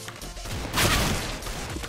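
Gunfire in the game CS:GO, a sharp burst near the middle of a short stretch of busy in-game noise, with no one talking over it.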